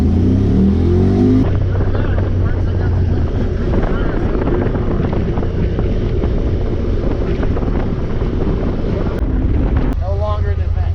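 A Honda Talon side-by-side accelerates off-road with a steady, loud engine roar and heavy wind buffeting that carries on for the whole stretch. Faint voices sit underneath.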